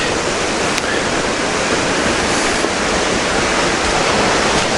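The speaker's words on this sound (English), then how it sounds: "I don't know if the microphone can pick up the sound of the falls" Dawson Falls waterfall on Mount Taranaki roaring steadily from somewhere ahead, a dense, constant wash of falling water with no break and no voices.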